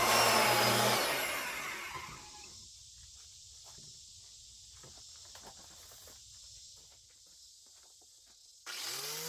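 Power drill running in a metal hole to clean out a burr while building a mobile beef processing trailer, a steady high whine with scraping grit, loud at first then settling into a thinner grinding tone.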